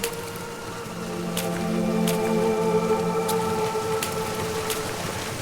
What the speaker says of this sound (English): That looks like a waterfall.